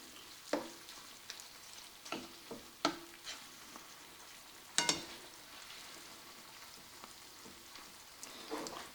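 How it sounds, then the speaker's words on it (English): Ground beef with garlic browning in a pan, a steady soft sizzle and crackle with occasional louder scrapes and stirring knocks from a utensil, close and alone. "I'm going to let this finish browning and then I'll be back with you"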